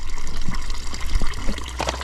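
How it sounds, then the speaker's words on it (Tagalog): Water running steadily into an 8-liter container at a campsite, a continuous gushing flow with a few small splashes, close by and fairly loud. "May nag-iigib dito, may nag-iigib."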